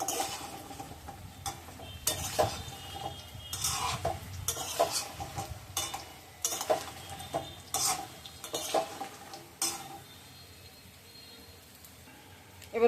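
Fritters (bora) frying in hot oil in a wok, a steady soft sizzle broken by repeated clinks and scrapes of a metal spatula against the pan, close and without speech.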